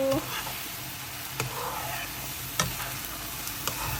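Beaten egg frying in a pan like an omelette, a continuous gentle sizzle with occasional sharp utensil taps and clinks, close by, with a voice briefly in the background.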